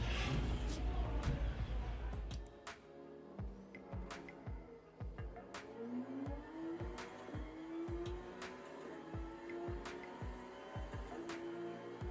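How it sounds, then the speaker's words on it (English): Race car engine from Gran Turismo played on a PS5 through a driving cockpit rig, a steady revving drone with rising and falling pitch sweeps and repeated sharp clicks of gear shifts or controls running throughout. "testing the cockpit with the PS5 playing Gran Turismo"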